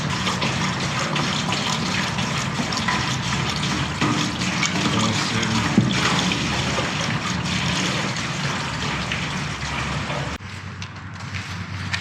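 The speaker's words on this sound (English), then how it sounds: "we'll get high pressure hose in, smash it with the high pressure hose" High-pressure hose spraying water to wash out the inside of an ex-army truck's diesel fuel tank, a loud continuous rushing hiss that runs steadily and then drops slightly in level near the end.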